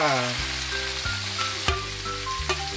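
Squash (kalabasa) sautéing for an Ilokano dinoydoy dish, a steady close sizzle in a hot pan with a few soft stirring knocks, while a low tonal hum runs underneath.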